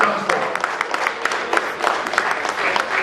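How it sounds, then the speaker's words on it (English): An audience applauds for the Nigerian High Commissioner at a Nigerian community gathering in Manchester, sustained dense clapping that fills the room, with voices mixed in under it. "Can I please ask you to give him a big round of applause,"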